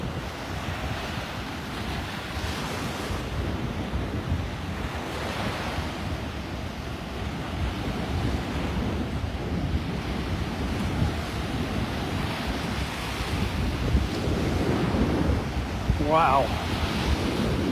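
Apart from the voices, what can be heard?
strong wind and surf on a beach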